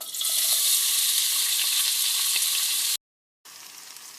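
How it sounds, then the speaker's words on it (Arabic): Chopped onion sizzles loudly and steadily in hot olive oil for Lebanese rice, with a dense crackling hiss that stops abruptly for a brief silence and then resumes a little quieter. "طيب هنا سخنت كمية طيبة يعني من زيت الزيتون، راح أكشن فيها بصلة"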